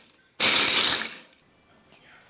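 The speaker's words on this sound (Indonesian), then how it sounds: "Kita haluskan Oreo yang sudah dipisahin sama krimnya." Oreo cookies, cream removed, crushed in a chopper: one loud burst of grinding, rattling blade noise lasting about half a second, then a quieter fading whir with small clicks.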